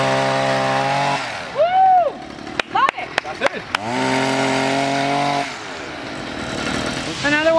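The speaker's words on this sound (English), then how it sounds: "So I guess we're off to cut the grass, which will be great because Julie's never used a lawnmower before" Engine of a lawnmower cutting grass on a baseball field for the Marlins grounds crew, a steady droning motor with loud rising and falling revs, repeated sharp knocks midway, and voices talking over it.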